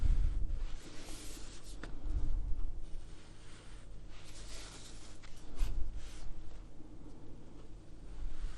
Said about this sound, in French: on va venir dessiner au stylo notre premier motif